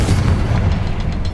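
A Confringo spell detonates in a Hogwarts Legacy cavern, giving a deep, rumbling boom that fills the whole moment and then tails off into a fading roar.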